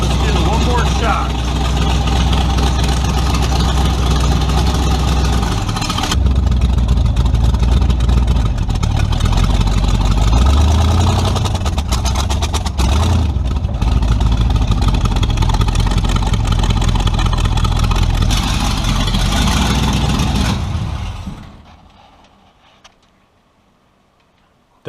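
A tunnel ram carbureted V8 revving in a garage, loud and sustained for about twenty seconds with rising and falling throttle blips, then cutting off abruptly into near silence.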